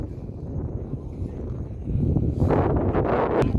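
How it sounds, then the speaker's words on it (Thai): Strong wind buffets the microphone outdoors on a Thai countryside trip to a gold pond. It is a steady low roar that grows louder and gustier partway through, with no speech. "สังเกตลมนะดัง"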